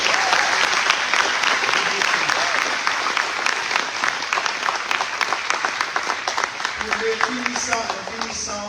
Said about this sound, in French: j'aimerais entendre un grand applaudissement pour les finissants